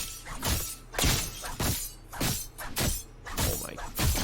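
Fortnite Primal Sting pickaxe strikes in a video game, about eight sharp crunching, shattering impacts in a quick regular rhythm, loud and close with no talking.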